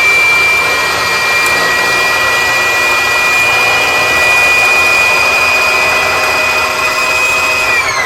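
A sewing machine winds its bobbin with the foot pedal pressed fully down, giving a loud, steady motor whine that holds constant for several seconds and then begins to wind down at the end.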